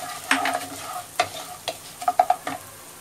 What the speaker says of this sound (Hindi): ये धनिया है ना, ये धनिया डालेंगे पहले